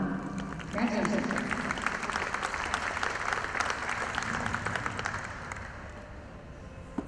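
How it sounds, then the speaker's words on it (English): Crowd applause at a dairy cattle show as a champion cow parades, clapping swelling after a brief announcer's voice, then holding steady before gradually tapering off. "Let's have a round of applause for our returning champion, DC Harmony Norma."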